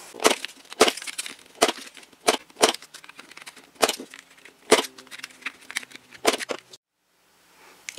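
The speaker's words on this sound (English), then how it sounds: "Now we round our corners." Paper pieces have their corners rounded with a corner punch, making a sequence of sharp, close clicks and crunches at an irregular rhythm, ending in a short silence.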